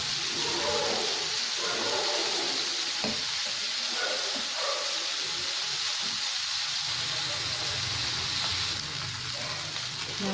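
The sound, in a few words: silver fish frying in a pan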